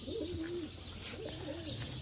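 Sharmeele breeder pigeons coo softly nearby, two drawn-out rolling coos in quick succession over a quiet background.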